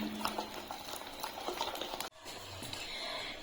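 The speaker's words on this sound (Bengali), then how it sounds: "এখন আমি ভালো করে এটা মিশিয়ে নিচ্ছি" Batter is stirred after a pinch of baking powder goes in, a quiet, close wet patter of mixing strokes with a brief pause midway.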